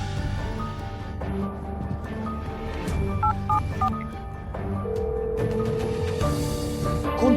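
Telephone keypad dialing tones, a few short beeps in a quick sequence near the middle, heard over steady background music at moderate loudness.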